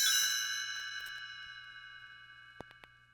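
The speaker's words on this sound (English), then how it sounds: "You will know it is time to turn the page when you hear the chimes ring like this" Bright chimes ring out together and slowly fade, followed by a few short, soft ding strikes near the end, clear and alone in a quiet room.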